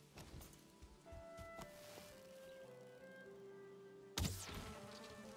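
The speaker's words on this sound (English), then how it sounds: "Oh, I hear bees though." Bees buzz in a video game while the player explores a coastal area in a hardcore survival run, a steady low insect drone with faint tonal hums under soft game ambience and a sharp louder burst near the end.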